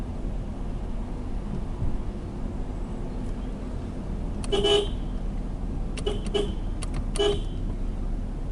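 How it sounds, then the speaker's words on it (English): Car horn of a Nissan Primera sounding in several short toots on a narrow village road at a forest edge, heard over steady interior engine and road rumble. "We have to regularly use the horn to alert the incoming drivers"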